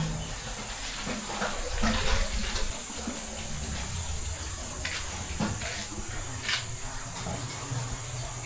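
Running water at a campsite washing area in Quezon, a steady hiss of flowing water under a person talking nearby, with brief louder splashes.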